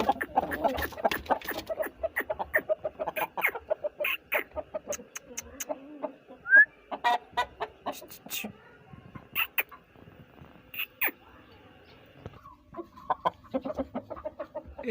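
Aseel chickens on a village rooster farm cluck in short, repeated bursts at close range, mixed with intermittent talk from people handling the birds.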